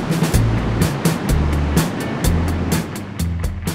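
Ocean waves wash onto the shore in a steady, loud surf roar, with repeated sharp splashes and low rumbling throughout.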